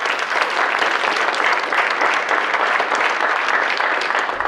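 A large crowd at a regular public meeting applauds continuously, dense and loud clapping sustained throughout without any pause.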